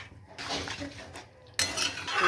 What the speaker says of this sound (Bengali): দিয়ে এটাকে একটু আমি জাস্ট নাড়িয়ে নেবো